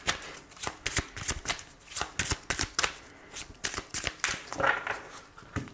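A deck of oracle cards is shuffled by hand in a close, quiet room. It gives repeated crisp riffling bursts and soft slaps in an uneven rhythm, with no voice over it.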